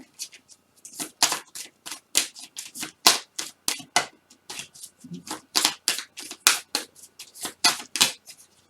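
Tarot-style cards are shuffled and drawn for a reading, giving crisp, close riffling and snapping bursts in a steady, repeated rhythm with short gaps between them.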